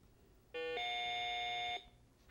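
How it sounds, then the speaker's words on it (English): A quiz bowl buzzer sounds at a high school match between Blue Valley and Shawnee Mission Northwest: one steady, bright electronic tone held for just over a second, loud and alone against a quiet room. "You got it in before the buzzer."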